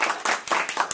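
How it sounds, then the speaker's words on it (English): An audience gives a round of applause for Tori, several bursts of clapping from a crowd, close and fairly loud, over about a second. "let's give a round of applause to Tori"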